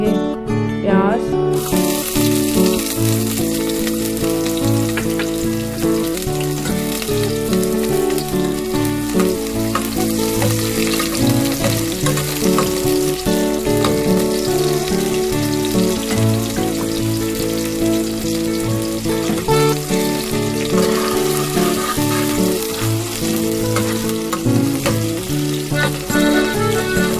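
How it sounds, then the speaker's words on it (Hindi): Onions frying in oil in a pan give a dense, continuous sizzle and crackle at close range, steady throughout with occasional stirring and no talking. "सबसे पहले हम शामिल करेंगे ऑयल। साथ ही हम शामिल कर देंगे प्याज,"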